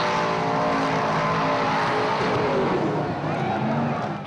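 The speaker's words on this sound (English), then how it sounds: "one of the key components of the ancient art of burnouts is blowing the tyres up." Car doing a burnout at a Powercruise event, engine roaring steadily and loud with dense, continuous tyre-smoking noise that barely varies across the short span.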